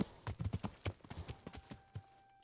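Horse hooves clip-clop on the ground in the medieval video game Kingdom Come Deliverance, an uneven run of close hoof strikes that slows and stops.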